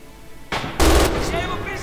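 An MG 42 machine gun fires in Red Orchestra 2: a sharp burst of rapid, loud, close shots that quickly fuse into one dense roar, then fades into a ringing echo.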